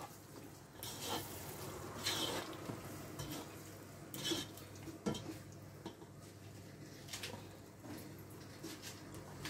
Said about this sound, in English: Stir our sauce, add our tomatoes in